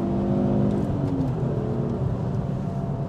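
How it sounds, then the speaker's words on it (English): A Mk2 Ford Focus ST accelerates hard in third gear with the turbo spooling, giving a steady loud engine drone and whir heard from inside the car, with no talk over it. "nail the throttle and then off we go. You can hear the turbo spool, bit of torque steer."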